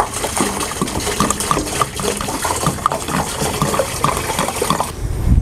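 Water rushes and gushes steadily into the tank of a DJI Agras T40 agricultural spray drone, a loud, continuous pouring fill close by with no talking over it.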